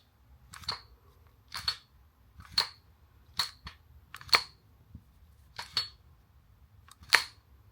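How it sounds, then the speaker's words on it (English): The slide of a Staccato XC pistol is racked seven times at roughly one-second intervals, each stroke a sharp, close metallic snap-clack standing alone against near silence. "I'm going to give you the slide action a few more times because sometimes guys like to hear that"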